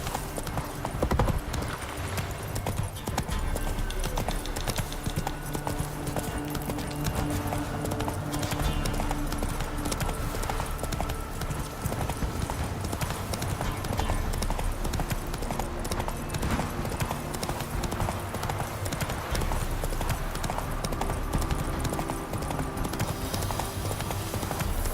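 Horse hooves clip-clop steadily at a walking-to-trotting pace across open ground in The Witcher video game, continuous and close for the whole stretch, mixed with ambient game sound.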